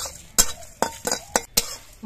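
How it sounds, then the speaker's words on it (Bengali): Spices are stirred and fried in a pan, with five sharp, rhythmic scraping strokes of a utensil close by over a faint background sizzle and no talking. "মশলাগুলো নাড়াচাড়া করে আমি ভেজে নিয়েছি"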